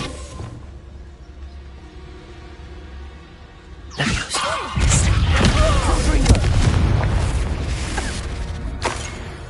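A Bombarda spell blast in Hogwarts Legacy, a loud sudden explosive crack followed by several seconds of crashing, crumbling debris and rumbling over a quiet ambient background.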